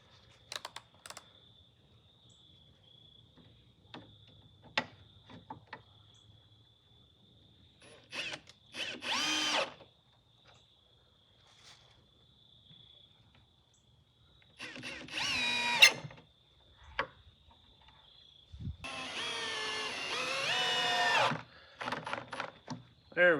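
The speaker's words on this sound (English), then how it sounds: "I'm gonna go get my drill and go ahead and get these screwed in" A power drill driving screws into a wooden bunk bed inside a 1983 camper, three short whirring bursts of rising pitch separated by quiet pauses, clicks and handling knocks, close by with faint background hum.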